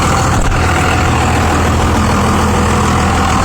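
A Cummins diesel truck engine idling loud and close, a dense, steady low rumble with a rough knocking character that holds unchanged throughout, no voices over it.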